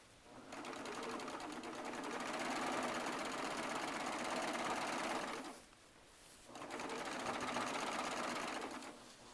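A Baby Lock serger stitches over a seam in quilting fabric charm squares, whirring steadily and close for about five seconds, stopping briefly, then running again.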